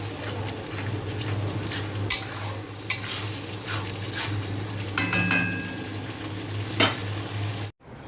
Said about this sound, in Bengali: এবার এটা ভালো করে কষিয়ে তারপর ম্যারিনেট করা মাংসটা দিয়ে দেব